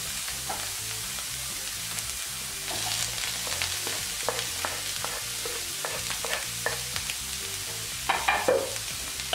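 Onions frying in a pan for a vegan mushroom and walnut roast, a constant close sizzle broken by scattered utensil taps and scrapes, with a brief louder burst of stirring near the end.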